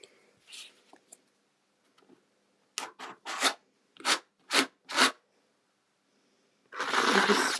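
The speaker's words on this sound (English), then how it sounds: "I'm going to scrape that bit off, pop that back into the jar." A tool scraping excess craft paste off a surface and back into its jar, heard as several short, separate scraping strokes, fairly close, followed by a longer, louder rasping scrape at the end.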